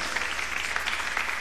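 A church congregation applauds with a dense, steady patter of clapping throughout.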